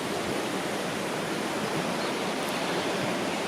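The Rosswood River runs high after winter rain, a steady, dense rush of water filling the whole stretch with broad, unbroken noise and no voices.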